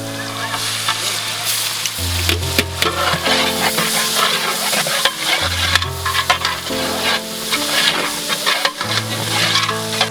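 Ginger garlic paste fries with onions in a large pot for Ambur chicken biryani, giving a loud, dense sizzle with stirring scrapes, while a low humming tone shifts pitch in the background.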